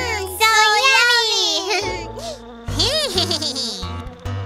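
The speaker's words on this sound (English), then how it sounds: "Oh, no. It's a mosquito." A cartoon mosquito buzzes with a loud, close, whining drone that wavers in pitch, playing over light background music and tones.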